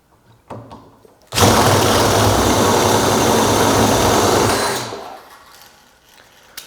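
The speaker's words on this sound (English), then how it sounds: "And I got this little paint shaker, which is really pretty cool." A small paint shaker clamped onto a can of paint runs loud and steady for about three and a half seconds with a dense mechanical rattle, then winds down and stops, leaving quiet shop noise.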